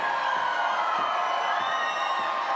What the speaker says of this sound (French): La foule est très contente.